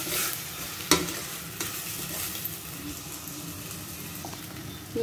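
Soaked sabudana being stirred into pumpkin kheer in a pot, with soft continuous stirring and a light bubbling simmer, plus a few sharper clinks of the spoon against the pan.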